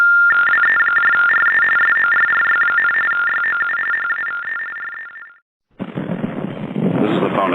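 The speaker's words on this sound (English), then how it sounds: "The following tones are for the hard of hearing." Steady electronic telephone tone sounding continuously after a disconnected-number recording on a New York City street payphone, fading out before a burst of louder street noise takes over.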